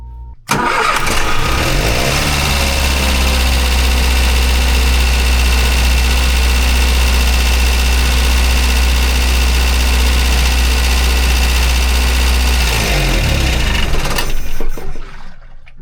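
The engine of a Rinker 410 boat cranks and catches, then settles into a loud, steady, rumbling idle for about twelve seconds before shutting off. It runs close and alone, with no talking.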